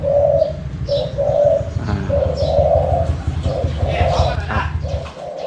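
Spotted dove cooing in a mid-pitched voice, a steady series of rhythmic, rolling coos repeated close by over a low mechanical hum, with faint chirps and occasional voices in the background.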